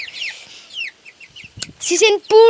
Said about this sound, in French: Voilà les petits poussins.